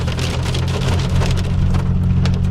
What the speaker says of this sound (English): Hail here, blue sky up there.